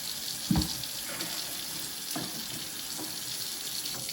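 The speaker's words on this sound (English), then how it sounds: "you'll need to rinse out your mop bucket because you do still have some dirt and cleaning solution inside" Water runs from a tap while a mop bucket is rinsed out, a steady faint rush with a few soft knocks and splashes.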